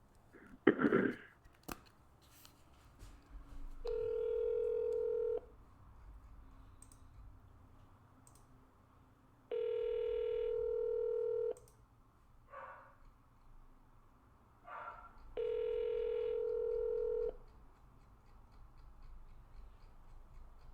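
Telephone calling a for-sale-by-owner seller: three long ringback tones sound, evenly spaced several seconds apart, with faint clicks and rustling in the quiet gaps between rings.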